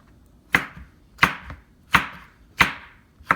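A knife cuts through a homemade chicken barbecue pizza with five sharp, evenly spaced chops against a board, close and loud with no talking.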